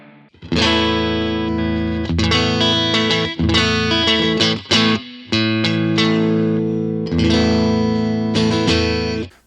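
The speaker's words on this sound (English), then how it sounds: "Slightly more modern reverb." An electric guitar plays loud sustained chords through a Fender amp simulation in AmpliTube 5 with modern reverb, a wash trailing each strum and brief pauses between phrases.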